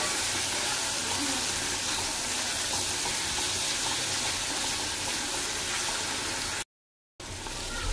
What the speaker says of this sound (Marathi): दुधी भोपळा बघा तेलात किती छान फ्राई झालेला आहे